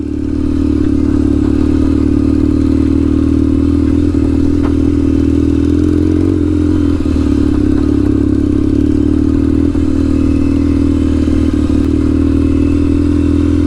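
A Kawasaki KZ750 Scrambler motorcycle is ridden, its engine holding a loud, steady drone close by, with faint rattles and scrapes.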